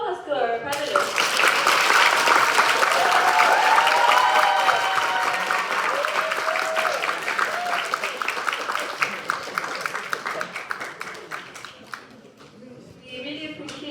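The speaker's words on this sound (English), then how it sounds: "let's all give a big thank you and a round of applause to our panelists" Forum audience giving panelists a round of applause, sustained clapping with voices murmuring and calling out beneath it, strong at first then thinning into scattered claps toward the end.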